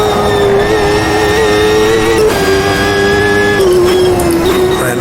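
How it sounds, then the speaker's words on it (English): A high, whining 1995 CART IndyCar engine in Automobilista 2 drones loudly and continuously on the front straightaway, its pitch shifting slightly as it holds speed, with faint background noise underneath. "I'll let you listen to this car for a second as we come on the front straightaway"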